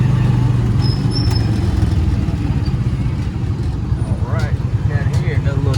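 Road traffic in a jam on a city street: a dense, steady rumble of idling car, motorcycle and bus engines with occasional clatter, loud and close, while someone talks over it.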